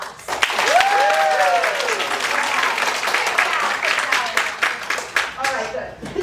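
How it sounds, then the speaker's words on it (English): An audience at an improv comedy show bursts into applause, with clapping swelling quickly and holding strong for several seconds before thinning out, while voices cheer and whoop over it. "What we could really use right now is applause."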